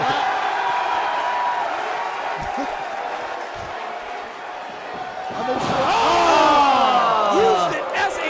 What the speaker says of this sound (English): that shot to the midsection of Too Cold Scorpio gets some boos from the Scorpio fans in attendance